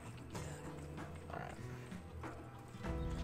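Horse hoofbeats in the PS2 video game Gun, a quiet rhythmic clip-clop mixed with game music and background effects.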